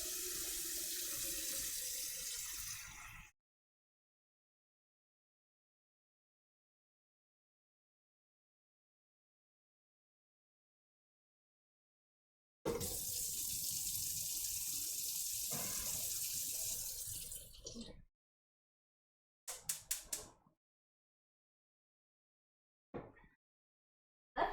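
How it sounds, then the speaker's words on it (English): Tap water runs hard into a pot being refilled for mac and cheese in a home kitchen, a steady gush for a few seconds, then again longer after a pause, followed by short splashes. "I'm just gonna replace the water and get new water boiling for the mac and cheese."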